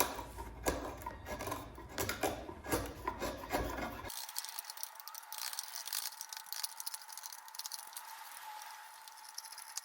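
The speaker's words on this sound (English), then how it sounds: "Quick work with the chisel to clean up the lap joints." A chisel pares and cleans up wooden lap joints for a custom-built workbench, giving close, steady rasping and scraping strokes for the first few seconds before the sound turns thinner and quieter.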